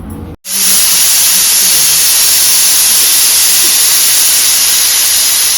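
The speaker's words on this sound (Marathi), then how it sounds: "आता आपली एक सिटी झाली वाफ काढल्या कुकरचं" A loud, steady jet of steam hisses from a pressure cooker cooking dal after a brief pause, with a high whistling edge that holds unbroken to the end.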